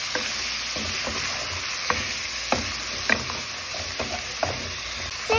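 Pieces of lamb fry in a pan under a constant hiss while a utensil stirs them, giving sharp scraping clicks at uneven intervals over the sizzle, up close and with no talking.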